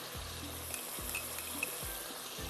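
Ground coriander, red chili and turmeric fry in a pan for a fish gravy, a soft steady sizzle broken by three or four low stirring scrapes at regular intervals, with no voices.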